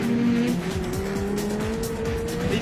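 Racing cars roar past on the United Downs circuit in Cornwall, engines loud and close with tyre squeal as they jostle and overtake, a continuous dense snarl of several vehicles without any talk.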